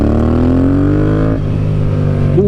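A modified Yamaha MT-07 motorcycle being ridden hard, its engine loud and close with steady revving that climbs in pitch, drops off briefly, then picks back up, with no talking.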